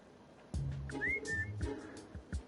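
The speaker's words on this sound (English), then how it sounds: "Whistle." A character in the video game Trails of Cold Steel III whistles, a few short rising whistle notes over game background music and sound effects.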